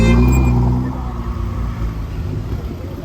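A car sits on a Paris street with a loud, low exhaust rumble that swells at the start and settles into a steady throaty idle.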